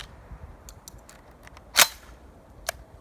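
A single sharp report from a 12 gauge shotgun firing a low brass birdshot shell, loud and abrupt against a quiet outdoor background, followed by a smaller click-like transient.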